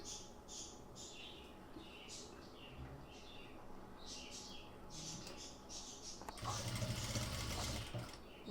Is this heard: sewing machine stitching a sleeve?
yes